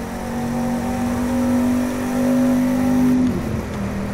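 A 1967 Shelby GT500 V8 in The Crew 2 accelerates, its engine holding a steady rising drone that climbs in pitch before dropping off near the end as the driver shifts, loud and close with no talk.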